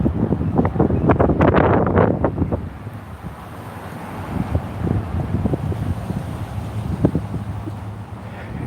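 Strong gusts buffet the microphone on a Las Vegas street at night, loudest in the first couple of seconds, then easing into a lower, ragged blowing roar.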